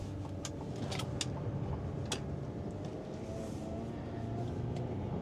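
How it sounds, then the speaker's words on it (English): A Ford four-cylinder pickup truck engine pulls in second gear under manual mode through a corner, a steady low rumble heard from inside the cab, with faint clicks and rattles over it. "Even though it's a 4-cylinder, I don't feel like it sounds quite bad."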